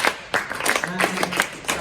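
A group of people claps a short rhythm pattern together, with sharp, loud, irregularly spaced claps close by, in a rhythm-reading lesson, with a voice audible alongside.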